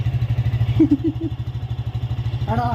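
A motorcycle idles close by with a steady, low, rhythmic thumping throughout, and a voice briefly joins near the end.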